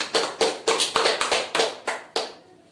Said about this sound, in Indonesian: tepuk tangan untuk teman kita Erni.